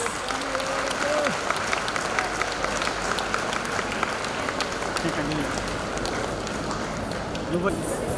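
An audience claps continuously and densely for kids on stage at a school annual day celebration, with voices audible over the applause.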